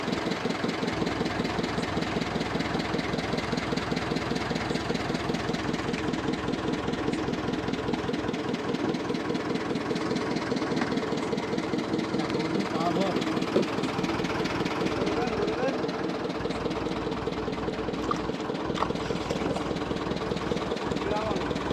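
Engine of a trawler running on a creek in the Sundarbans, a loud, steady rhythmic chugging that continues throughout while people talk over it.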